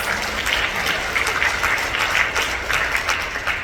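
Steady applause from an audience at a group gathering, dense clapping that holds at an even level for a few seconds, close and full, with no clear voices over it.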